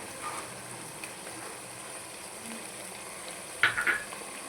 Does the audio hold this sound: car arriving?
no